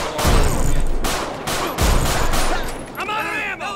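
Police pistol gunfire in Grand Theft Auto LSPDFR: loud, close shots ring out in separated bursts with ringing tails, and a radio-like voice chatters near the end.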